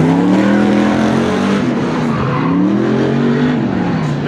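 A race car tears through its last autocross lap at a Goodguys Western States Autocross Shootout in Colorado, engine loud and close, revving and dipping through turns with faint tire noise, no voices over it.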